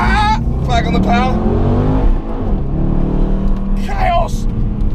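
An Aston Martin Vantage AMR with a modified, louder aftermarket exhaust pulls out of a tight hairpin in Monaco, its engine rising and falling through loud revving sweeps while someone talks over it.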